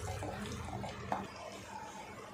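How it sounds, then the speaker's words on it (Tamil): About a quarter cup of water poured into tomato curry in a pan, a steady close splashing pour lasting a couple of seconds with a faint bump midway. "கொஞ்சமாக ஒரு 1/4 கப் அளவுக்கு தண்ணி ஆட் பண்ணிக்கலாம்"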